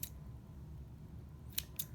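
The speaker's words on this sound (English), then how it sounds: "So I'm just going to stick my scissors inside the loops and cut." Two quick, crisp scissor snips, close together near the end, cut through the yarn loops of a pom-pom being made for a children's hedgehog craft, with quiet room tone before them.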